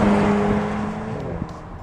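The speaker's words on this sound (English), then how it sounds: "The way the Flying Spur accelerates is actually quite spooky." A Bentley Flying Spur accelerates hard, its engine giving a loud steady drone with a held pitch that slides lower as it pulls away. The sound fades slightly over the short stretch.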